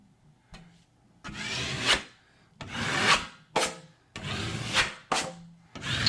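A bent drywall knife spreads joint compound into the corners of a small wall patch, making four or five close, smooth scraping swipes, each about a second long, with brief pauses and light taps between them.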